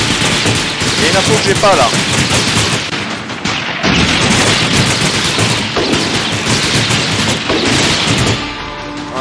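Rapid gunfire from a Gatling gun in the brawler game Slaps & Beans, loud and nearly continuous with crashes mixed in, running under a voice speaking French.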